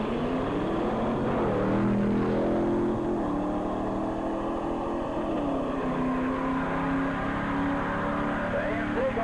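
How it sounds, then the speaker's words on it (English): Small 6-cylinder AMC drag car launching down a 1985 dragway strip, engine revving with rising and shifting pitch over a constant loud crowd and track noise, heard from a distance. "the little 6-cylinder AMC from Valterius getting a great big head start"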